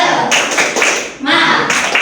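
A classroom of sixth-grade pupils performs a rhythmic spirit clap, a dense, loud burst of many hands clapping together in patterned groups, pausing briefly before starting again.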